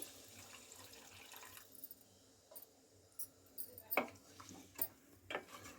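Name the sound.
water poured into chicken curry pan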